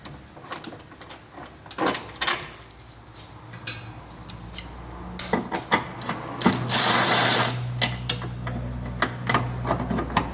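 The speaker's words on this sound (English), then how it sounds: "Next, you'll remove this front toe link bolt." A ratchet works on the 14mm and 17mm bolts of a car's rear toe link and trailing arm bushing. It gives close bursts of rapid clicking and metallic clanks, with a louder whirring burst in the middle and no talk.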